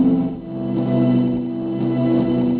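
A dense, shimmering granular drone from a Roland P-6, made of rapid tiny grains, buzzing and slightly distorted, holding steady without pauses.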